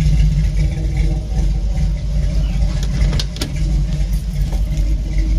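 A 1978 Dodge Chinook motorhome engine idles steadily up close, its low rumble continuous throughout with a few brief clicks and rattles on top and no talking.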